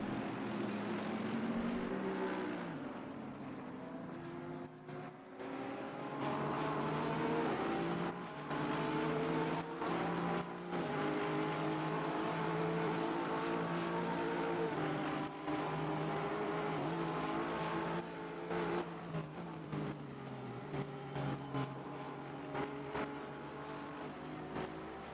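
Porsche and Aston Martin race cars in a sim racing game at Silverstone roar past with sustained engine notes whose pitch rises and falls through gear changes, staying loud and continuous for the whole stretch.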